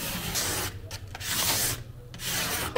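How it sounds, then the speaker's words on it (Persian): A steel cabinet scraper is sharpened on sandpaper glued to a marble slab in a guitar-making workshop, producing loud, close rasping strokes back and forth with short pauses between passes. "استاد در حال تیز کردن لیسه هستم."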